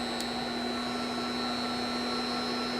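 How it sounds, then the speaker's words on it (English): Load motor on a PowerFlex variable-frequency drive test setup running at 60 Hz, a steady electric hum with a fixed whining tone and broadband whir throughout, constant and fairly loud, with no speech. "So we'll turn on the load motor and bring our preset speed up."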